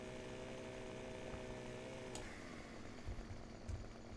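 A chainsaw cutting a tree in the Farming Simulator 2015 game drones loudly and steadily, its engine pitch dropping partway through, with a few dull knocks and thumps near the end.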